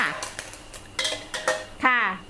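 Several metallic scrapes and clinks of a utensil scooping small fried fish from a pan over high heat, ending in a louder ringing scrape, close up with no talking.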